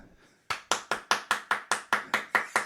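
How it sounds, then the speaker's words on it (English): A single person clapping their hands, about ten sharp, evenly spaced claps in quick succession, close and crisp after a short quiet lead-in. "Yes, folks, I just clapped for him"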